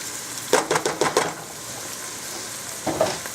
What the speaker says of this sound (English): And I'm just going to saute these for about 5 minutes or so